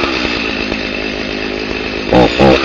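A chainsaw idles and runs with its chain spinning, a buzzing two-stroke engine drone that is then followed by two short, louder bursts of throttle near the end.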